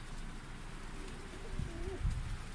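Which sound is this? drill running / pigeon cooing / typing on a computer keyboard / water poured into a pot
pigeon cooing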